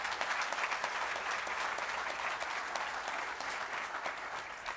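Sustained audience applause for award winners at a 2023 school awards ceremony, a dense even wash of many hands clapping at steady loudness throughout.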